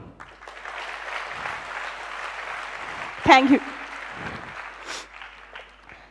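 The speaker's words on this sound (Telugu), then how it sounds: "I just need a clap from you." A seminar audience at a graphology talk claps in a steady, moderate wash of applause lasting several seconds, with a short spoken thanks and a brief louder knock partway through.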